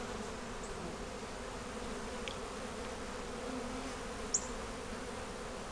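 Honeybees hum in a steady, faint drone at an opened hive, the colony carrying on around a newly accepted, laying queen; the buzz is continuous and unbroken, with no talk.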